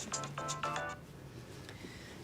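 A telephone rings indoors in a domestic scene, a few repeated electronic trills in the first second followed by quieter room tone.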